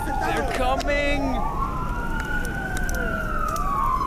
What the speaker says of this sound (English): Sirens off in the distance.